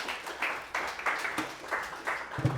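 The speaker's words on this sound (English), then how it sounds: "Round of applause for Kayla" A small group claps for a trainee at a state training session, moderately loud applause in uneven bursts over a few seconds, with a brief low thump near the end.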